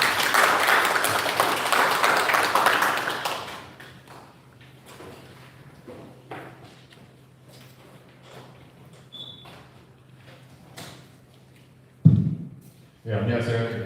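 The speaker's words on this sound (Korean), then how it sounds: "박수 부탁드립니다." Audience applause at a lecture on smart city policy, a dense wash of many hands clapping for about three seconds and then tapering off. Quiet room noise follows, with a few scattered thumps near the end.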